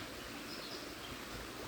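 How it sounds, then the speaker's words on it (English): Water flows in Brittas Creek as a faint, steady, even rush that continues without a break for the whole short stretch, with no voices. "Beautiful sounds of the water."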